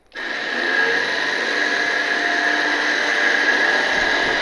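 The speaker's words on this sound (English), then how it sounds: "we got David running the winch, running through our lower pulley, out off the edge" A winch cable running through a lower pulley to drag a fallen tree out over an edge starts abruptly and runs as a steady, loud motor whine with a high tonal hum, close by and without speech.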